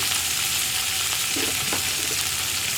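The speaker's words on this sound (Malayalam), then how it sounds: "ഇത് രണ്ടും ചേർത്തിട്ട് നന്നായിട്ടൊന്ന് വഴറ്റിയെടുക്കുക" Cauliflower with salt and turmeric sautéing in a pan gives a steady, even sizzle, heard close with a couple of faint stirring scrapes in the middle.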